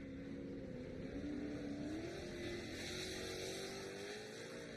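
Short course off-road race truck engine at a Victorville race, heard from a distance as a steady, droning roar whose pitch climbs and dips as it shifts through turns, with no talk over it.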